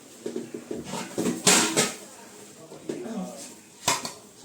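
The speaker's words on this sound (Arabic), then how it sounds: "احضر غطا الحله اللي انا هقلب عليه" A metal pot lid is handled on a kitchen counter, giving a few clattering clanks and scrapes amid other cookware knocks, close by, with someone briefly speaking.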